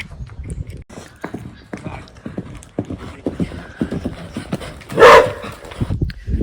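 Horses' hooves clop on the ground at a farm stable area where horses are saddled for rides, with dogs barking and yipping nearby and a brief louder burst partway through.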